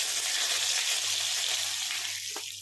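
Cumin seeds sizzle in hot oil in a pan, with a loud, steady hiss that fades slightly toward the end, alongside a low hum and no voices.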